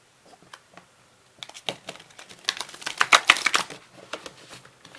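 Large oversized Angel Wisdom Tarot cards shuffled by hand, a soft riffling patter of card edges that starts sparse, builds into a dense flurry of slaps and flutters, then trails off into scattered taps, close and with no talking.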